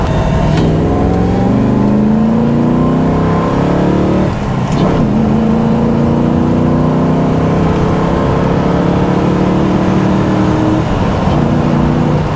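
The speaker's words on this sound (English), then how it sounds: "exhaust system on it now is a little bit quiet. It's a factory XD V8 exhaust." Ford XD V8 fitted with its factory exhaust, idling and running steadily with a deep, continuous rumble and a slight blip of revs partway through, close and loud with no talk.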